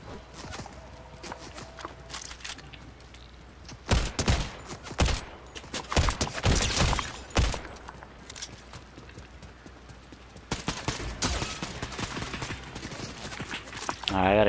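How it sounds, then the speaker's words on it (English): Bursts of rapid gunfire in the Fortnite video game crack in loud clustered volleys between quieter stretches, with footsteps and game effects and a player talking over the action. "I'm getting shot."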